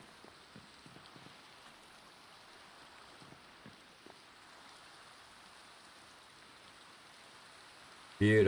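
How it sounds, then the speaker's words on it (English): Rain falls at night in a Minecraft-style game world, a soft continuous patter with a few faint drips and taps standing out early, then an even hiss until a louder burst at the very end. "Beautiful sounds. The rain, pitter patter."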